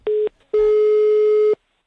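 A telephone line gives a busy tone after a hang-up: a short steady beep, a brief gap, then a longer loud steady tone that cuts off, with no talk.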